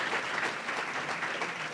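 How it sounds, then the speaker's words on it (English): An audience at a college research night event bursts into applause, a dense, steady patter of many hands clapping for about two seconds with no voices over it. "But you should applaud first,"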